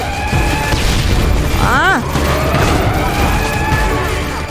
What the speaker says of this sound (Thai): ระเบิดไปหนึ่ง